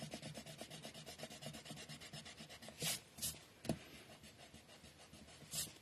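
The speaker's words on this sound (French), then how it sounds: "hop, je vais gommer." An eraser rubs pencil marks off a paper card in quick back-and-forth strokes, a close, faint, rhythmic scrubbing with a few louder brushing swipes.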